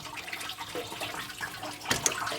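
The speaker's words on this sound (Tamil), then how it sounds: "இப்போ ரேடியேட்டர் பார்த்திங்கன்னா ஓப்பன் பண்ணிக்கிட்ட கேப்பை தண்ணி இறங்கிட்டுருக்குது" Coolant water drains from an opened Toyota Qualis radiator into a vessel, a steady, close trickling and splashing with a brief louder gush near the end.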